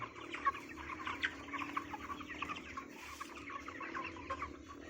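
Broiler chicks on a farm flock of about a thousand chirp and cluck continuously, a dense, steady chorus of many birds close by with no talking.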